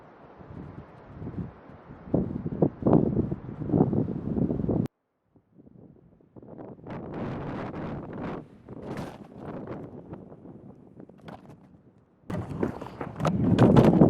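Strong wind buffets the microphone at an outdoor tarp-shelter campsite in loud, rumbling gusts, dropping out briefly before roaring back even harder.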